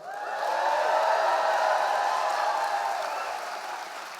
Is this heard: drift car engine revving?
no